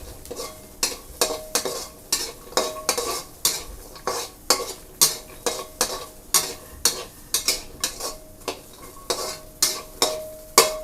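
Rhythmic scraping and stirring of ingredients dry-roasting in a pan for Thai chili paste with pork, repeated strokes roughly every half second, close and clear with no talking.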